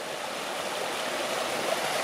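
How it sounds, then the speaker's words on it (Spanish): Steady broadband rush of the Profundo river near a stone mill and small stone bridge in Villaviciosa, Asturias, flowing continuously and fairly close with no voices. "Aquí tenemos la vista del río Profundo."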